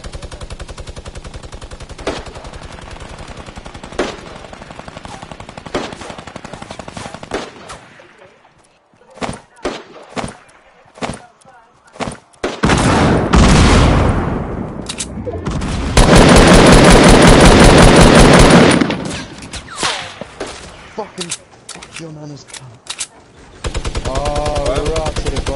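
Hand cannon and other weapon fire in the Fortnite video game: scattered loud single shots give way to dense rapid bursts and long sustained volleys, with players talking over the action.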